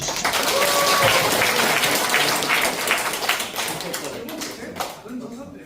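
Participants applaud together in an online meeting, a loud wash of clapping with crisp individual claps that tapers off toward the end.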